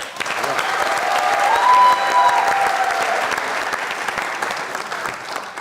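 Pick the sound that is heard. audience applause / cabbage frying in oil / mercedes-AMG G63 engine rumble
audience applause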